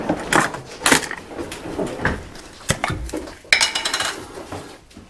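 A metal spoon clatters into the washing-up among dishes while a vegetable salad is being made, giving a few sharp bright clinks of cutlery against crockery at close range, amid other kitchen handling noise.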